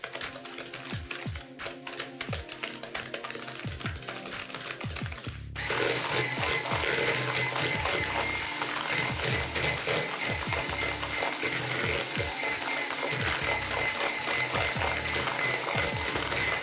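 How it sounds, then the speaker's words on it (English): An electric mixer whips melted butter and sugar in a bowl. Its steady motor whir jumps to a louder, harsher, continuous buzz partway through and keeps going without talk. "start whipping with the mixer"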